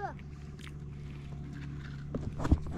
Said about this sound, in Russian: Вон они опять на лодке поехали.